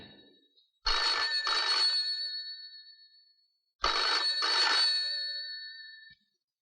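A telephone rings twice, each ring a loud, close, trilling burst of about two seconds, separated by a pause of silence.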